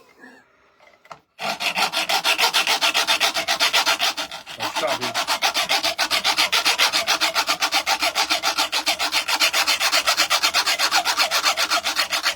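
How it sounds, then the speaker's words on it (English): Steady back-and-forth sawing or rasping on a vintage cheese grater in a kitchen, loud and continuous with a rapid regular stroke rhythm, briefly pausing once before carrying on; a voice mutters briefly at the start. "Oh, you're going to do a hacksawish thing."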